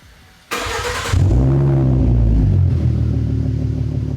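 A 2013 V6 Mustang with a MagnaFlow Race Series axle-back exhaust cranks briefly, fires and blips, then settles into a deep, steady, close idle rumble.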